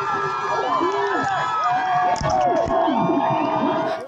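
A crowd cheers and shouts during a police arrest of a journalist. Excited voices and whoops rise and fall close by, with people talking among the noise.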